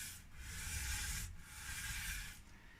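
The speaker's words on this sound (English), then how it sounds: "So I'm just very gently sanding this so it will fit" Steady back-and-forth rasping of sandpaper by hand on the wood of a Harley Benton Tele-style guitar, two long strokes close by, with no talking.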